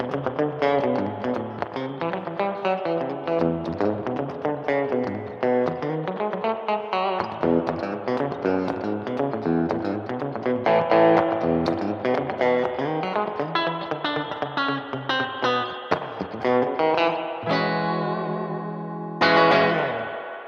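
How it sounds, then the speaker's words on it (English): Electric guitar through a Boss ME-90 multi-effects unit with the spring reverb set to maximum, chords and notes ringing in a loud, drippy wash of reverb that continues steadily, ending with a sustained chord and a final struck note. "let's bump it up to the top setting of the spring reverb"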